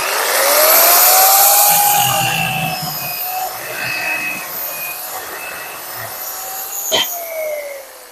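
A power saw whines steadily through a cut in firewood, its motor pitch rising and falling, with a brief sharp burst near the end.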